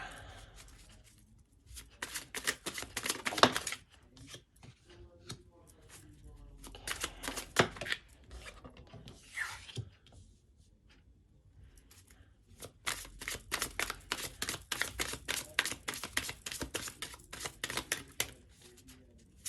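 Tarot cards being shuffled in bursts of quick riffling and flicking, loud and close, with quiet gaps between rounds and no talking.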